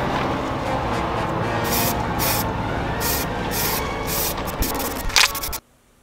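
Spray paint hisses onto a toy car body that is being fitted with a Raspberry Pi and RC motor. The hiss is steady and close, swells in short bursts, then cuts off abruptly just before the end.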